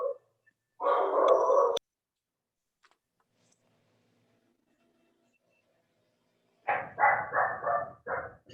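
A dog barks close by: one short burst of barks, then a long quiet pause, then a quick run of five or six sharp barks near the end.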